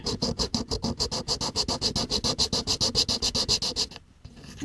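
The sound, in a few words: sanding a plastic model engine part flat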